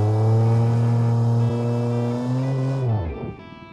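The engine of a 1946 sedan in the BeamNG driving game, revving loudly up to a high steady whine that holds, then drops sharply as the throttle is released, close and alone.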